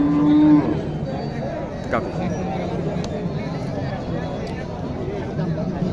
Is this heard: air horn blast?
no